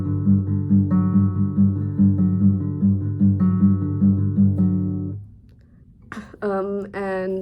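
Fingerpicked guitar pattern for a song, an even, repeating cycle of single plucked notes ringing together for about five seconds, then a pause and someone speaking.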